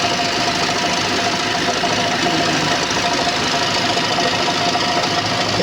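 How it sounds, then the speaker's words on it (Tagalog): An older Toyota Camry engine running steadily with a persistent knocking, rattling hum, close and even throughout with no voices. "Yan ang aking chilling old motor. Toyota Camry."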